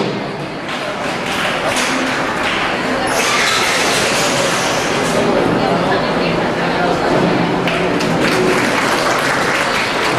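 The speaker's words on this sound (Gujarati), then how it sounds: "જોરદાર તાળીઓથી વધાવીએ" Sustained, loud crowd applause welcoming Rajubhai Parmar, chairman of a sanitation committee, at a public gathering, a dense wash of clapping lasting throughout with faint chatter underneath.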